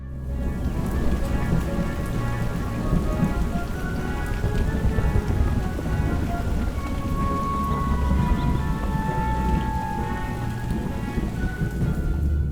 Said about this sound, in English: It's raining down on him. It's thunder. It's lightning.